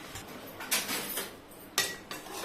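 A utensil scrapes and clinks against a pan while eggplant pieces are stirred with turmeric, giving a few distinct metallic taps and scrapes amid soft sizzling.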